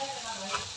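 Mustard seeds spit and sputter in hot oil, a brief, faint, steady sizzle with light crackles, heard up close in a home kitchen.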